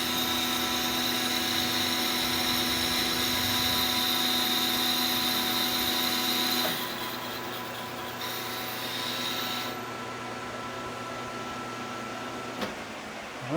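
A machine cuts a single pass across a washer for a Pierce Arrow distributor. It gives a steady, moderate mechanical hum that drops to a quieter whir partway through.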